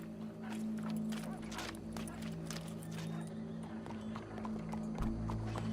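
Horse hooves clip-clop at a steady walking rhythm in the Red Dead Redemption 2 video game, close and continuous, over a sustained low drone in the game's soundscape.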